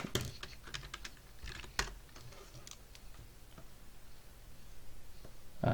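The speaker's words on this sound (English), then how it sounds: "I'm using a Dell Windows 98 keyboard, so a Windows 95 keyboard, so it's very loud" Typing on a loud old Dell Windows 95-era keyboard, a fairly quiet stream of irregular clacks and taps with a few sharper key hits, with no talking.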